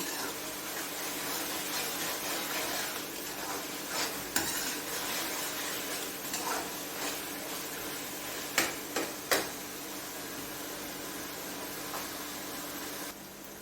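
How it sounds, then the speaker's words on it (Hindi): Steady frying sizzle of ginger-garlic paste fills the clip, with occasional scraping and clinks of a utensil stirring in the pan. "मैं इसमें डालूंगी अदरक और लहसुन का पेस्ट और इसको भी अच्छी तरह मैंने 1-2 मिनट के लिए भूनना है"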